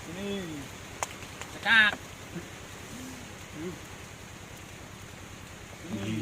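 Rain falls in a steady, fine patter on a surface outdoors during a game of chess, a constant soft hiss under occasional short bursts of people talking.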